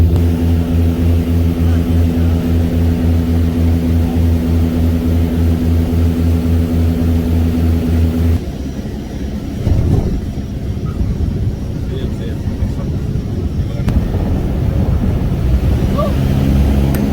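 Small airplane cabin on a flight to Lukla Airport in Nepal, a loud steady propeller engine drone with strong low hum, shifting to rougher rumbling and rattling midway as the aircraft bumps along.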